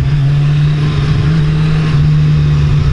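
Kawasaki Z1000 motorcycle engine on throttle during a ride, a loud steady drone holding an even pitch with slight surges, heard close over wind rush.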